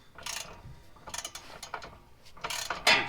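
Wrench working nylock nuts onto a Jeep JL rear differential skid plate, a backup 3/4 wrench held above; quick bursts of ratcheting clicks come in several close, uneven runs with short pauses between them.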